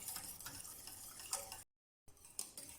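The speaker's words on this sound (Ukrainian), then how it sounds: "і варимо до загустіння, постійно помішуючи" Béchamel sauce with nutmeg and salt stirred constantly in a pan as it simmers and thickens, soft faint scraping and ticking of a utensil with a gentle bubbling hiss, briefly cut to silence midway.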